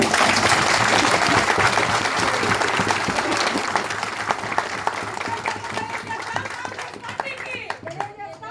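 Sustained applause from a large audience at a Congress party political gathering, dense clapping that fills the clip and tapers slightly toward the end as a voice begins to speak.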